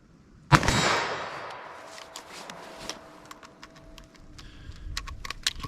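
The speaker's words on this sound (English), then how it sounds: "I'm just going to set this in my pocket, fire off a shot 25 yards, reload" A revolver fires a single sharp, loud shot at a 25-yard range, followed by a series of small metallic clicks and clacks during a quick reload, with no talking.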